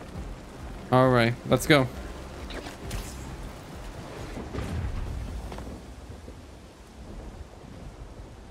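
Rain falls steadily and thunder rumbles low in the Marvel's Spider-Man 2 video game, with brief voiced and tonal game sounds early on, and someone speaking a few words over the storm.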